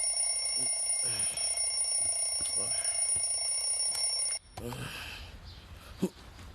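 A loud alarm clock rings continuously with a steady electronic tone for several seconds, then cuts off abruptly, leaving room noise and a brief knock.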